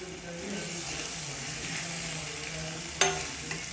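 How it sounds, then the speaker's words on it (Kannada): Tomato masala with turmeric and garam masala frying in a pan, a soft continuous sizzle with one sharp utensil clink near the end. "ಸ್ವಲ್ಪ ಗರಂ ಮಸಾಲವನ್ನು ಹಾಕ್ಕೊಂಡು ನೀಟಾಗಿ ಫ್ರೈ ಮಾಡ್ಕೊಳ್ಳೋಣ"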